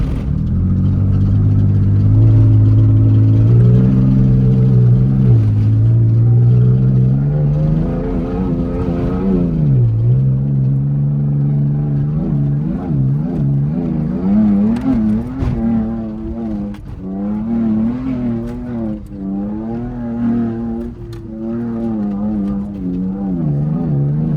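A modified Toyota Tacoma truck fitted with a spool drives and revs, its mid-pitched engine climbing and falling through repeated throttle blips, loud and close, with no talk over it.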